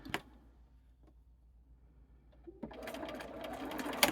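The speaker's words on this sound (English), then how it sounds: "And I just chain stitch, just feed them through." A sewing machine chain stitches half-square triangle pieces, starting after a quiet stretch with a close, rapid mechanical whirring and ticking that builds toward the end.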